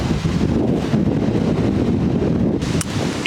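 Steady wind buffets the microphone with a constant low roar and rumble, no other sounds standing out.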